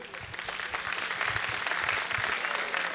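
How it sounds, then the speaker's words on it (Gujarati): An audience at a school annual function gives a long, sustained round of applause, many hands clapping in a dense wash that holds steady for several seconds, with faint low rumbles underneath. "એકવાર જોરદાર તાળીઓ સાથે અને ઉત્સાહ સાથે વધાવી લેજો"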